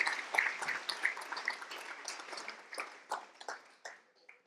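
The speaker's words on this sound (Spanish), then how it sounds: "¿Le podemos dar un aplauso al Señor?" A church congregation applauding during a sermon, a dense patter of many hands clapping at moderate distance that gradually thins out and fades over a few seconds.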